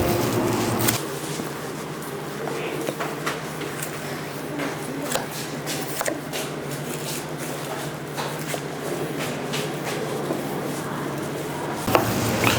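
A knife works through a beef short rib from dairy-breed cattle during commercial butchering, giving scattered faint cutting and scraping clicks against a steady low background hum.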